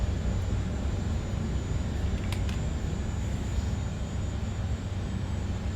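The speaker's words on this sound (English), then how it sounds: "Clear 4. Engine 4 start." An Airbus A400M turboprop engine number 4 spinning up during ground start, a loud steady broadband rumble and whoosh from inside the aircraft with a faint high whine above it.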